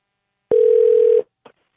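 A single steady electronic ring tone sounds for under a second, clear and close, followed by a faint short blip.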